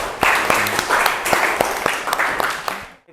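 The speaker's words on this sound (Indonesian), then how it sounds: "Aplaus dulu untuk kelompok 3 ya." Audience in an Indonesian teacher-training class applauds presentation group 3: a steady wash of many hands clapping for about three seconds, fairly close and even, then fading out abruptly at the end.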